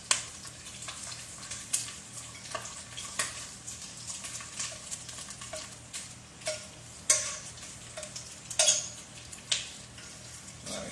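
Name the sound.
bacon frying in a pan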